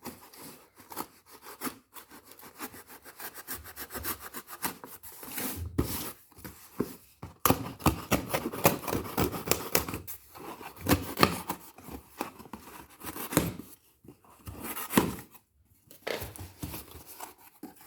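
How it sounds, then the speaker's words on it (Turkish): A cardboard book package is pried open by hand without a utility knife: irregular, close scraping, crinkling and tearing noises with uneven loud bursts over about eighteen seconds, no voices. "açmaya çalışıyorum ama maket bıçağı olmadığı için biraz beni zorluyor"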